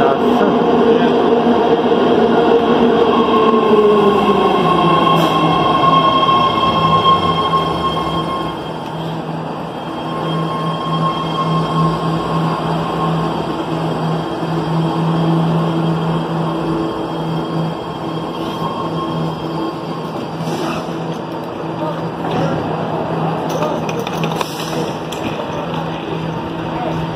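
A Caltrain train rumbles and hums loudly close by, with a long squealing tone that fades as the run settles into a steady roar with faint clanks.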